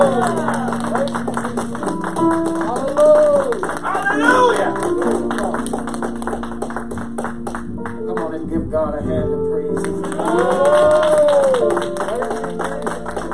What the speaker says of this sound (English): Clap your hands for him as he comes